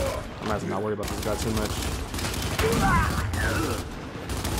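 Lancer rifle gunfire in Gears 5, with bursts of rapid automatic fire and battle noise running under someone talking throughout.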